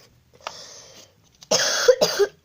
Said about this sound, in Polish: Jestem trochę kaszląca.